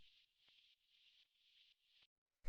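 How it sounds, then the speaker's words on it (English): Vinyl crackle and hiss layered as a background noise bed for a minimal house track, faint and steady with soft repeating swells, ending in a short louder burst. "the last layer that we have here is this vinyl noise"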